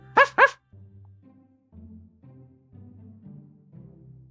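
A small dog in the video game Dream Daddy gives two quick, sharp yips, followed by a low murmur of soft game music or ambience that continues afterward.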